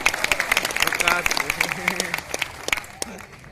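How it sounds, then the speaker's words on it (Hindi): Audience applause at a Hindi comedy poetry recital by a humorous poet, a burst of clapping from the crowd mixed with voices talking over it throughout. "एक बार जोरदार तालियां हो जाए"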